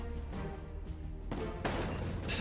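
A cannon fires in the pirate ship video game Awesome Pirates. A loud, broadband boom bursts in after a rumbling, booming game background, and a second blast follows shortly after.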